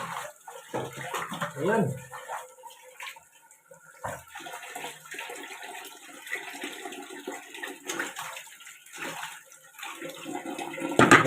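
Water runs and splashes in bursts as fish are washed, with intermittent handling noises and a short spoken word near the start.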